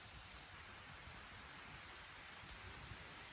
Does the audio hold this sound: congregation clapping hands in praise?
no